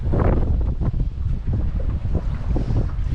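Strong wind buffets the microphone aboard a small fishing boat at sea off Samsun during a storm, a loud, gusting roar with low rumbling surges and no voices.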